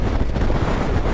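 Strong wind buffets the microphone in a loud, continuous low roar at Portland, Dorset, with no other sounds breaking through.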